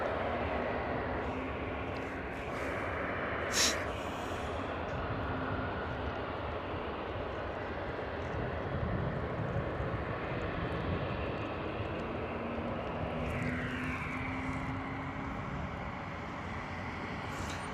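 A Jet2 Airbus A321neo jet airliner on runway 25 gives a steady, broad engine roar that holds for the whole stretch at moderate level, with no one speaking.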